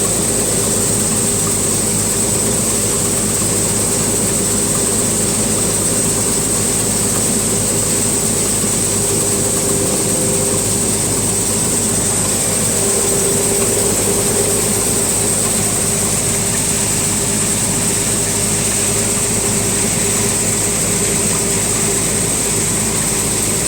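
A Double Sher combo-model combine harvester works through a wheat crop, giving a steady, loud mechanical engine drone with a constant high whine that holds unbroken throughout, with no talk.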